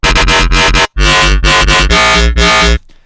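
Loud wobbly dubstep bass synth made in FL Studio pulses in thick, rhythmic bursts with brief gaps, cutting off abruptly near the end.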